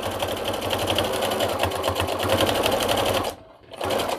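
A sewing machine stitches through a pinned hooded towel, a loud, close, continuous rapid hum that cuts out briefly near the end and resumes for a short back stitch.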